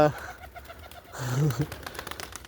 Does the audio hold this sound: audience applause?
no